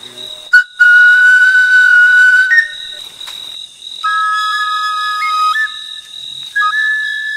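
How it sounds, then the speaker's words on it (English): A wooden African hunting whistle blows loud, piercing sustained tones that break into separate held notes and short pitch shifts, with a faint insect-like hiss behind it and no voices. "wooden whistles held to be magic help the hunters to communicate with each other"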